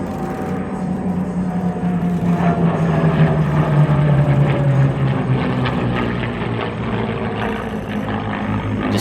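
Vintage Wings Heritage Flight aircraft make a low pass at the Gatineau-Ottawa airshow, a loud propeller engine drone whose pitch slides downward as they go by, with steady rumble throughout.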